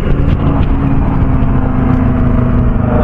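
Sports cars including a Lamborghini, a Porsche and a BMW pass on a road, their engines a loud, steady roar with a deep rumble that holds throughout at close range, no voices.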